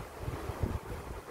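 Wind gusts at a beach resort buffet the microphone, producing a low, rumbling, uneven roar with brief surges, fairly faint overall and with no voices.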